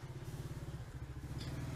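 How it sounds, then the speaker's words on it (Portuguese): A motorcycle arriving, its engine putting out a rapid throbbing low-pitched chug that is steady and fairly close, with no talk over it. "Ali o meu cunhado chegando de moto"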